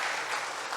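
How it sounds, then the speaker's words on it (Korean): Brief burst of applause from a church congregation during a Sunday service, a dense patter of clapping hands heard alone for under a second. "박수를 치시는 분들도 있고 안 치시는 분들도 있고."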